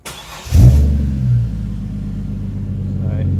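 A Holden VX Commodore engine starts with a sharp burst, then settles into a deep, steady exhaust rumble, running close and loud to the end.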